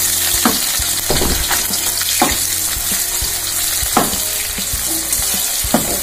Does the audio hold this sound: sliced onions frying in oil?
yes